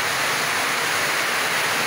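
A dense, steady hiss of falling water runs without a break, like rain pouring and dripping heavily off a roof edge.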